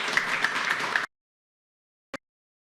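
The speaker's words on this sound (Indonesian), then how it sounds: "Kita tepuk tangan dulu untuk para narasumber." A studio audience on a television talk show claps for the guests in a brief, dense burst lasting about a second, then cuts off to silence, broken later by one short isolated knock.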